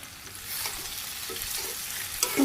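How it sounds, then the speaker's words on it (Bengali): Coriander powder and whole spices sautéing in a pan for a village-style jackfruit curry, a steady close sizzle with soft scraping stirs throughout and a brief louder clatter near the end, no voices. "ভালোভাবে কষিয়ে নিই ভালো করে আস্তে আস্তে জাল দিয়ে সুন্দর করে কষিয়ে দেব"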